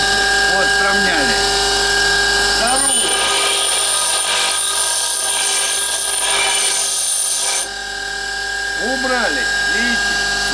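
A grinder wheel takes the brazed tip off a parting lathe tool, a continuous loud abrasive whine with rising and falling tones as the tool is pressed and lifted, while someone talks over it.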